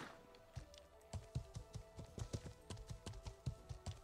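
Horse hooves clip-clop steadily on the ground while riding in the medieval game Life is Feudal, a quick even rhythm of light, close hoof taps with no talking.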